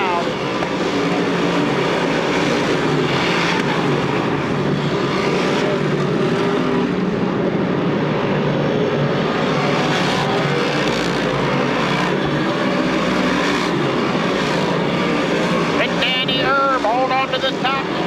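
Modified race cars roar continuously around Grandview Speedway on opening night, a dense, loud wall of engine noise with wind buffeting, while a voice talks over it throughout.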